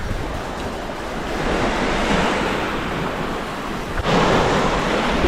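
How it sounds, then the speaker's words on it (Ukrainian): Rough Black Sea surf breaks on the shore after rain, a steady loud wash of waves with a heavier crash near the end, no voices. "Сьогодні море трохи неспокійне, є трохи водорослів, але дуже тепле"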